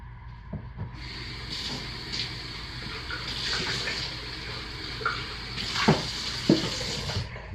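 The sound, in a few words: pouring lye water into soap-making oils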